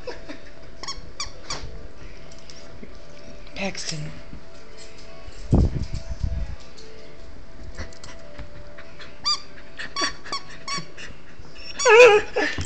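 A dog plays with a squeaky frog toy, giving scattered short squeaks and a loud burst of squeaking near the end, amid panting and rustling while a person talks throughout.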